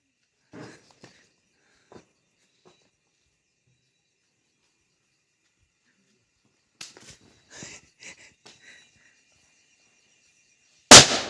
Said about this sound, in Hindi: आओ ना पटाखा फोड़ने